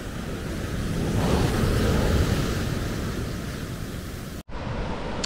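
Rough Atlantic Ocean surf at Nazaré, Portugal roars as a steady, loud wash of breaking waves with wind buffeting the microphone, briefly cutting out near the end.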